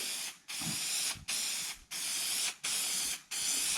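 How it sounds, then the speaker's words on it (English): Adhesive spray onto car headliner fabric comes as five close, loud hissing bursts of about half a second to a second each, separated by brief pauses. "As we spray this, we want to try and get nice even coverage."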